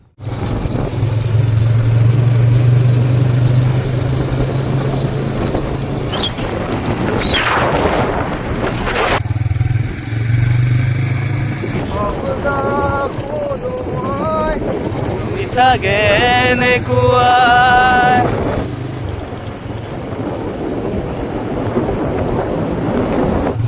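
A motorcycle rides a muddy, rough road in West Karbi Anglong near Langardang, its low engine rumble droning steadily throughout while a rider talks over it at times.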